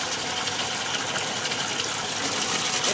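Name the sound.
water gushing from a borewell pump into vessels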